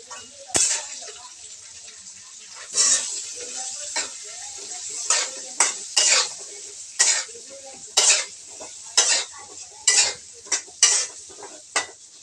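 Potato and soybean frying with salt and turmeric: a continuous close sizzle punctuated by about a dozen sharp spatula stirs and scrapes against the pan, fairly regular, with no voices.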